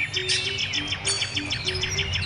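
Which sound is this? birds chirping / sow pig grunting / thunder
birds chirping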